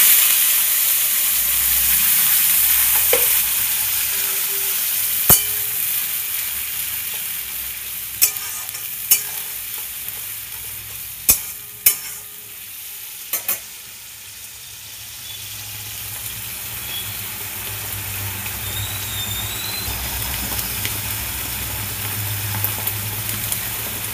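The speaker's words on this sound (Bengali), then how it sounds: "বেটে রেখেছিলাম পেঁয়াজ, আদা, টমেটো আর কাঁচা লঙ্কা, এটা আমি কষিয়ে নেব ভালো করে।" A spice paste of ground onion, ginger, tomato and green chili fries and sizzles steadily in a pan, with a continuous close hiss broken by a few sharp clicks of a stirring utensil against the metal.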